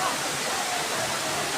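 Waterfall at Nalalata Falls in Bula, Camarines Sur, a steady, loud broadband rush of falling water filling the whole short stretch with no break.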